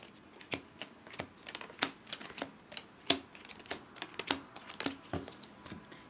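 A tarot deck is cut and handled, producing a quick, irregular series of soft card slaps and papery rustles. The sound is close and quiet, with no speech.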